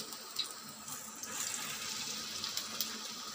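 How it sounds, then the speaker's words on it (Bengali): Bottle gourd pakoras fry in hot oil, a soft, steady sizzle broken by small crackles and pops, heard close and alone. "তো দেখো আমি এটা তেলে দিয়ে অল্প অল্প করে ভেজে নিচ্ছি।"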